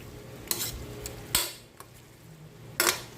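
A utensil scrapes and stirs bean sprouts with fried tofu in a pan in three distinct bursts, with a soft sizzle between them.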